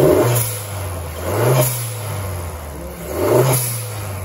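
A VW Golf Mk7 TSI engine fitted with a Forge blow-off valve is revved three times in a steady rhythm, each rise and fall of engine note heard close and clear over the idle.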